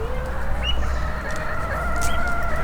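A blue mottled rooster crows in a drawn-out call, loud and close, with clucking from nearby hens over a steady low background hum.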